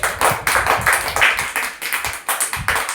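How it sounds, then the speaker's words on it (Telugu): A group of children clapping together in a quick, even rhythm, about a dozen sharp claps in a row, fairly loud and close, with no talking. "క్లాప్స్ కొట్టండి."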